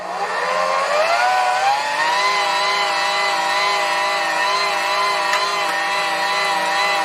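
An electric meat grinder runs steadily, grinding meat for cheddar garlic brats with a loud, continuous motor whine that holds an even pitch throughout, with no talking.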